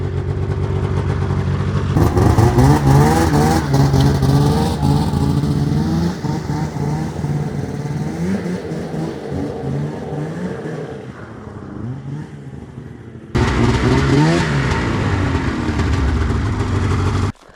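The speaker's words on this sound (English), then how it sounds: "we got a warm engine and a running sled" A warmed-up Polaris Indy 700 XC snowmobile engine revving up and down in repeated bursts, loud and close, with a brief dip near the end before it roars again.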